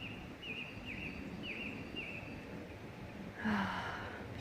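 Faint, repeated bird chirps sound at a steady pace over soft outdoor ambience, followed by a brief louder rustle.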